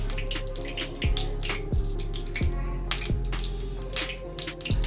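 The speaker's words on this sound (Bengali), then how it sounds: "এরকমভাবে আমি মাছগুলোকে এবার ফ্রাই করে নেব" Fish frying in hot mustard oil in a kadai gives a steady, crackling sizzle, broken by a few soft thuds at regular intervals as the pieces are moved around.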